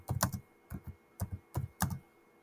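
Quick bursts of clacky keystrokes on a computer keyboard come in short clustered groups with brief pauses between them, close and moderately quiet.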